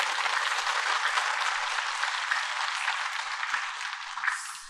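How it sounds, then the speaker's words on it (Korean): A church congregation at Sunday worship applauds the praise team and choir, with dense, steady clapping that fades slightly toward the end. "우리 드림 찬양팀하고 시온 찬양대에 박수 한번 하면 좋겠지 않겠습니까?"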